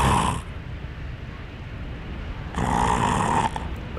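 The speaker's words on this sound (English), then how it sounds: "Ladies and gentlemen, I give you snoring." A character in Dark Souls 3 snores loudly, with two drawn-out breaths, one at the start and one about two-thirds through, separated by a quieter low rumble. No one speaks.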